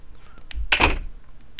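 A door opens in the survival horror video game Resident Evil 1.5, a single loud mechanical swing and clunk lasting about half a second, set against a quiet background with no talking.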